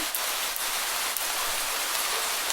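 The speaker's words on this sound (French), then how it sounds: "Et c'est parti, dommage, sous la pluie" Steady rain falls in a dense, even hiss with a few faint drips standing out, no voices.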